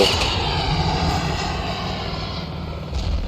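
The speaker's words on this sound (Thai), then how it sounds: "โอเคเครื่องบิน" An airplane engine drones steadily overhead in the video game Ravenfield, a loud, continuous roar through the whole short stretch.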